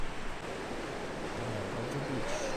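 Surf washing onto Port Douglas Beach makes a steady, broadband roar of waves with a low rumble underneath, fairly close and continuous, mixed with a little wind.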